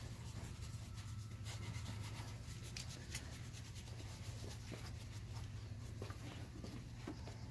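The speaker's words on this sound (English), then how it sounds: "you're going to take your cosmetic brush and you're just going to get up in here" A cosmetic brush scrubs through a car engine bay in a soft, continuous rubbing hiss at low level, steady strokes with no talking.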